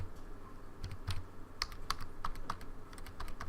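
Computer keyboard keys are pressed one at a time in an irregular rhythm after the keys were scrubbed, giving close, crisp but softened clicks over a quiet background.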